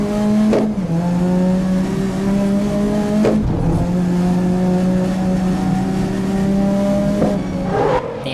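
A fast race car in the racing game GRID (2019) drives hard down a straight, its engine note holding steady and shifting pitch at a few gear changes, loud and continuous with no voices.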